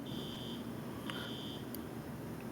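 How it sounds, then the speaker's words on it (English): An electronic alarm beeps faintly in a tournament venue, a few thin high tones, one long and a couple of short chirps, over a low steady room hum. "I'm hearing some unreal alarm."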